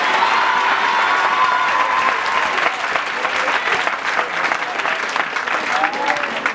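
A church congregation applauds and cheers loudly, with dense, sustained clapping and crowd voices rising throughout, and a few voices calling out over the noise.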